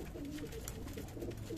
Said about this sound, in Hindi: सारे कबूतर नीचे आ रहे हैं